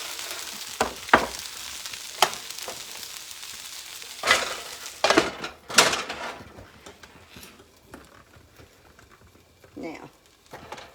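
Salmon patties browning in oil in a pan give a soft, steady sizzle with scattered clinks and scraping bursts from a utensil, close by, while a person talks.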